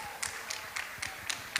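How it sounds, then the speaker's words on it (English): Slow, evenly spaced claps at a Srila Prabhupada disappearance day festival gathering, six distinct faint hand claps about a quarter second apart, quiet and somewhat distant over a low background hum. "let's give a round of applause to welcome all of them."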